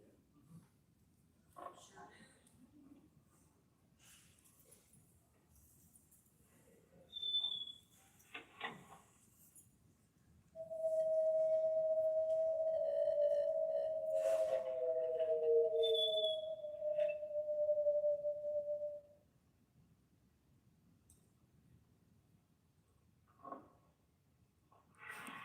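A played recording of an alleged Bigfoot howl sequence at a Michigan conference: one long, sustained tonal howl in the middle, with a lower overlapping tone, framed by faint room noise and brief sounds from the audience.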